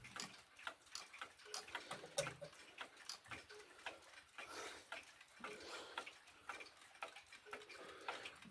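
A clock ticks faintly with a steady, regular tick-tock in a quiet room, the soft clicks repeating evenly throughout with no talking.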